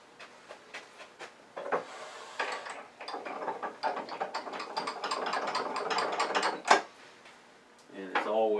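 Tailstock center with spring-loaded prongs being cranked down onto a wood blank on a lathe for a clamshell box, a run of close ratcheting, gear-like clicks and rattles building to a sharp clack, with a brief voice at the end.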